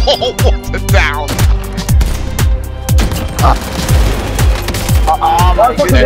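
Repeated heavy gunfire in a Call of Duty match, including shotgun blasts, booming in an irregular rhythm at close range, loud throughout with scattered voices and game effects in between.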